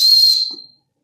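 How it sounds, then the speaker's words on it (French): A small toy whistle from a prison-escape board game gives one loud, shrill near blast lasting about half a second, then fades quickly into silence. "il fonctionne très bien ce petit sifflet"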